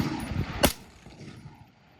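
A single loud, close gunshot from an AR rifle firing Superformance ammunition, a sharp crack followed by a brief outdoor echo tailing off.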